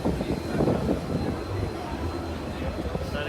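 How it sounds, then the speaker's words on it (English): Warbird airplanes at the Oshkosh airshow rumble with a continuous low propeller-engine drone as they prepare to take off, heard from nearby on a busy airfield. "You can see all these warbirds right here about to take off behind me."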